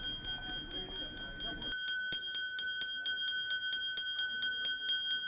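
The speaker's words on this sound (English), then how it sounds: "The ghanta gadi makes its way, clanging its loud bell, to a designated spot each day." A garbage collection cart (ghanta gadi) in Thane clangs its loud bell in a steady, rapid repeating rhythm, bright metallic strikes ringing on, with faint street noise beneath.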